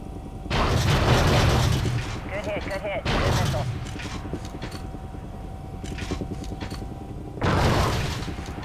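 Missiles explode in Call of Duty Ghosts, three heavy booming blasts spaced a few seconds apart, loud and close, with radio-style voices talking between them.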